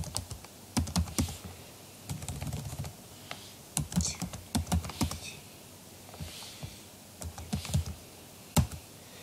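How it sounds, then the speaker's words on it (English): Close computer keyboard typing, with irregular bursts of key clicks and short pauses while a command line is entered, quiet and alone with no talk. "you have to type that AWS configure and then type the name of the key"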